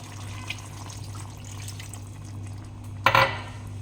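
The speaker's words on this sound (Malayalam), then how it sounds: "അര കപ്പ് വെള്ളം ഒഴിച്ചു കൊടുക്കാം" Quiet kitchen hum, then a short splash of half a cup of water poured into a pot of beef curry near the end.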